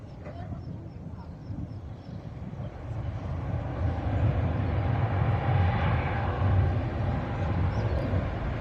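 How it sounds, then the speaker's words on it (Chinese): A China Southern Boeing 777-300 widebody airliner lands at Guangzhou Huadu, its jet engine roar heard from a distance as a broad low rumble that swells and holds steady. "我们现在看到降落的是一架从西安咸阳飞过来的南航波音777。"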